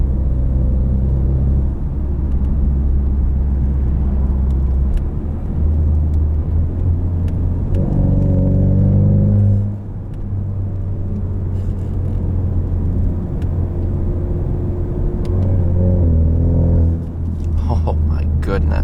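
A 2020 Ford Mustang EcoBoost 4-cylinder convertible with performance exhaust accelerating, its deep engine drone rising through gears with throaty exhaust rumble heard from inside, while a person talks over it.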